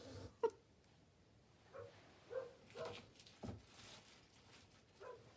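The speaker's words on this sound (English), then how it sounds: "you can hear Macy barking outside" A dog barks outdoors at a distance, several short, faint yips scattered irregularly among quiet indoor craft-table noises.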